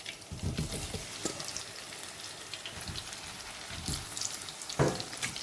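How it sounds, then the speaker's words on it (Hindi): Potatoes frying in a pan for aloo gobhi, a soft, steady sizzle and crackle with a few louder pops, fairly faint and close. "इसी तरह हमने अब आलूओं को भी 2-3 मिनट के लिए बस इसको हमने इसमें फ्राई करना है।"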